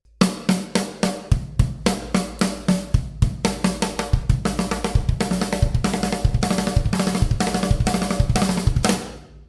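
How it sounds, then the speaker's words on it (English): A straightforward rock beat on kick and snare, punchy and steady, building into a denser, continuous roll of hits toward the end. "So just kick and snare, our pattern would sound like this."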